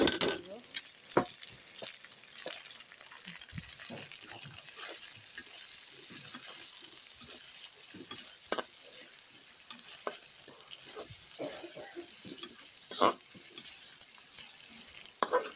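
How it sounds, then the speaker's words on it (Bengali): Garlic and onions frying in a pan for a taro-stem stir-fry, a steady close sizzle with repeated sharp scrapes and clacks of a stirring spoon against the pan, no talking. "এই রসুনটা আমি একটু লালচে করে নিব"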